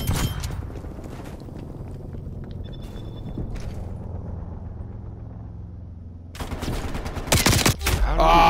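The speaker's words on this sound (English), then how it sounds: "Throwing flashbang." Flashbang thrown during a Call of Duty Cold War team deathmatch: a steady game rumble and footsteps, then a sudden loud blast with crackling bursts near the end, with brief talk mixed in.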